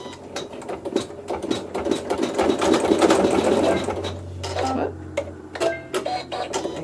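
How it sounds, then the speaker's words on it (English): A sewing machine stitching a tuck down in neutral thread makes a close, rapid mechanical whirr of needle strokes that runs steadily and then slows into a few short bursts, with no talking. "I'm going to stitch that tuck down"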